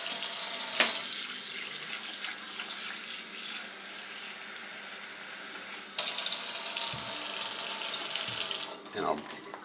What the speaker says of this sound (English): I just put the water in the same bowl that I made the roux in